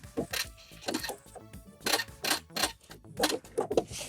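Home sewing machine backstitching through fabric while sewing a fly on wide-leg pants, giving quick rhythmic mechanical ticking bursts that stop and start in short runs, with faint talking mixed in.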